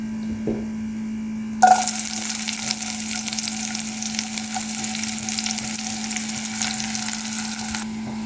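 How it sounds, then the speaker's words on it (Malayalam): Mustard seeds fry in hot oil for an Onam olan dish, a loud dense crackling sizzle that bursts in suddenly and runs steadily before cutting off near the end, over a constant low hum. "നമ്മുടെ കടുവെല്ലാം വറുത്തു"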